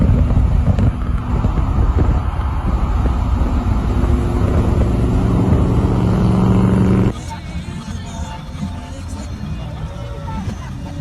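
A lowrider car cruising along a highway, with steady loud road and wind rush throughout that drops abruptly to a quieter hum partway through, with faint voices mixed in.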